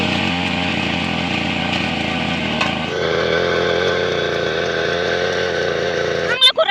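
A small engine on a grass weeding machine runs with a steady, close, buzzing drone that shifts pitch slightly midway and cuts off at the end.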